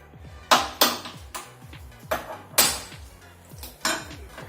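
A metal pan is set down on a stove, producing a series of sharp clanking knocks with short ringing tails, about seven hits in uneven rhythm, close and fairly loud.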